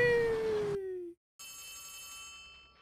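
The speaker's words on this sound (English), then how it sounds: "Yo, my phone's ringing." A phone rings inside the horror game Poppy Playtime Chapter 3. A sliding tonal ring is followed by a brief silence, then a second shimmering, bell-like ring that slowly fades, with no talking.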